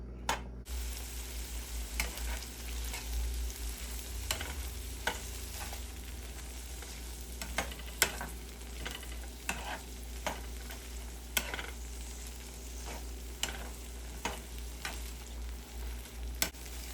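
Mushy peas cook in a pan, with a soft steady sizzle and a low hum underneath. A spoon scrapes and stirs through them in repeated short strokes, close and clear, with no talking.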